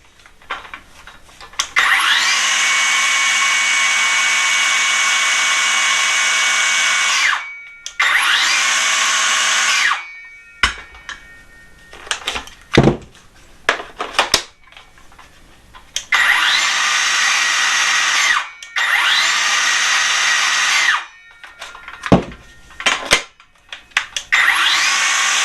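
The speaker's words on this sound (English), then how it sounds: "it has a slightly higher pitch to the saw with a 5" FLEX cordless inline circular saw on a 5 battery spinning up in several long bursts, high-pitched and loud, with short pauses and clattering handling noises between runs.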